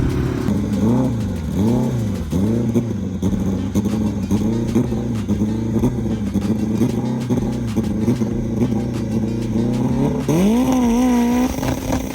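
Mitsubishi Evolution drag car at a test-and-tune event in Jamaica, engine revving loudly and climbing through repeated gear shifts as it launches down the strip, a brief lull before a final high-pitched rising pull close by.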